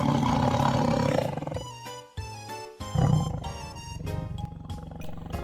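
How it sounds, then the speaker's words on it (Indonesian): A tiger roars loudly and close, a deep rumbling call that breaks off and then returns in a second, harsher burst before fading. "Harimau, tiger."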